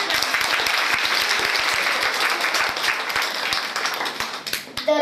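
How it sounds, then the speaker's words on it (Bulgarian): Audience applauding the cooks at a school celebration of nature and health, loud and sustained clapping from a sizable crowd that stays even throughout and ends with a brief burst of other noise. "Нека аплодираме нашите изкусни готвачи."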